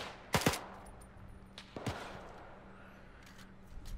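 A few loud, close gunshots in the Arma 3 WWII video game, German uprising scenario, with a quick double crack early, another single shot later, and fainter distant shots trailing off over quiet ambience.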